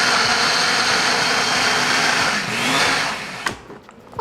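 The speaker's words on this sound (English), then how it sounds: "Just going to close this all up and put it into our blender." A blender whirs steadily, blending a salad dressing made with salt and pepper, a continuous motor drone near and loud that cuts off at the end.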